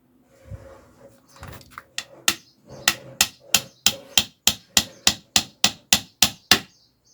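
A hammer drives a nail through a metal sandwich roof panel: soft taps at first, then a steady series of about fifteen sharp, ringing metallic strikes at an even pace, close and clear with no talking.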